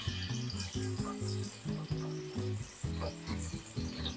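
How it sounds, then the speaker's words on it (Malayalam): Masala-marinated paneer fries in hot oil with a quiet, steady sizzle that sits beneath louder background music. "ഈ എണ്ണയിലോട്ട് ഈ പനീറില്ലേ മസാല ചെയ്ത് വെച്ചേക്കുന്നത് അതിട്ട് കൊടുക്കാം."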